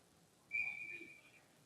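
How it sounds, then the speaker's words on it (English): A referee's whistle blows once during an ice hockey game, a single shrill blast of nearly a second that rises above faint arena noise and then fades. "we'll get the whistle with 8:04 left here in the game"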